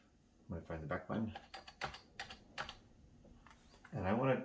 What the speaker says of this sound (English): Now we're going to do some more typing here.